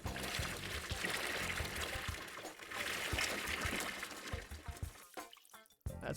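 Water pours into a brewing kettle in the Brewmaster beer brewing simulator game, a steady splashing, trickling rush that thins out and sputters near the end.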